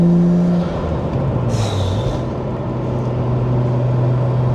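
Nissan Skyline R33 engine roaring from inside the cabin, a loud, steady low drone that shifts pitch slightly as it runs, continuous and close throughout.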